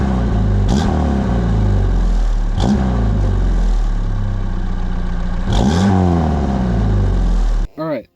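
A 1986 Pontiac Fiero engine revs loudly up close in repeated surges, each climbing and falling back to a steady idle, before cutting off abruptly near the end.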